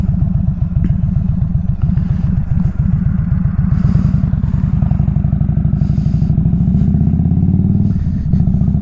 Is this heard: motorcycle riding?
yes